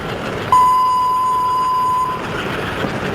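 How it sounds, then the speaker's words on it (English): An American Flyer model train sounds a single steady whistle tone lasting about a second and a half over a low mechanical background on a club layout. "Listen to that choo-choo sound."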